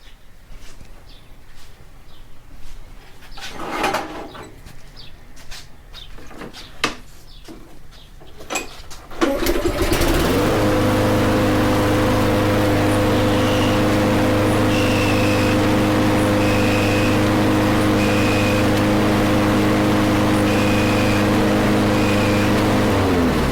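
A Toro Recycler lawn mower that won't self-propel is pushed with a few clicks and knocks, then its engine starts and runs loudly and steadily, holding a droning hum with faint whistling tones above it.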